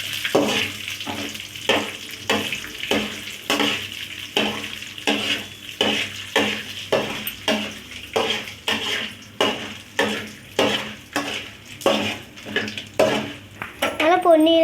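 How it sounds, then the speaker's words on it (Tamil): A ladle scrapes and clinks rhythmically against a pan in which lentils and garlic roast, with more than twenty regular strokes over a steady sizzle, heard close up and without speech. "கரண்டி கிண்டு கிண்டி வச்சுக்கலாம்."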